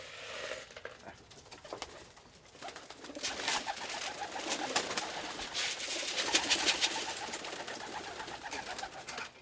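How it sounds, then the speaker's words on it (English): Armenian pigeons coo among trees, soft repeated throaty calls close by over a steady outdoor backdrop, continuing throughout with no talk. "These are Armenian pigeons."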